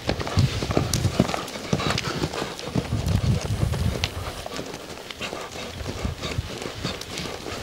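A panicking horse during ground driving: rapid, uneven hoofbeats pound close by, with a brief whinny and a voice talking intermittently over the running.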